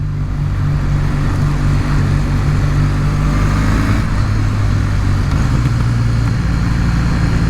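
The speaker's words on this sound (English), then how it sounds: "Love when you do a little rev match and you downshift the way it sounds" A 2020 Kawasaki W800 motorcycle engine revs and downshifts while riding around town, its steady loud rumble shifting pitch as the rider blips the throttle.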